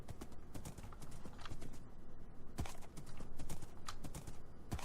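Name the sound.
horse hooves clip-clopping in a video game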